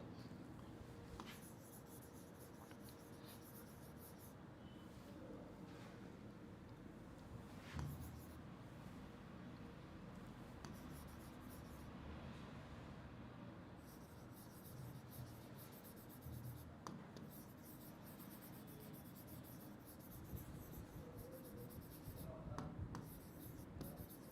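Marker or chalk writing on a classroom board during a psychology lecture, faint scratchy strokes in irregular bursts across a long stretch, with a low steady room background and the occasional soft knock.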